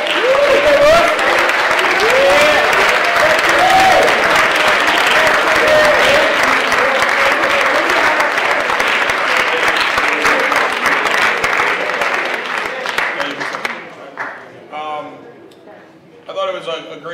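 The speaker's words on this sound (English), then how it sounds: "have the guys on the JV basketball team just stand up real quick for a round of applause" A school awards audience applauds the JV basketball team, loud continuous clapping from a large crowd that holds steady and then thins out, giving way to a speaker's voice near the end.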